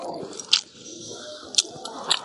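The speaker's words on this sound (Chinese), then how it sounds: "这牛肉有点嚼劲， 吃不进去，嚼不动。" Close-up chewing of tough stewed beef from old yellow cattle, with steady wet mastication and three sharp, distinct bites spaced across the moment.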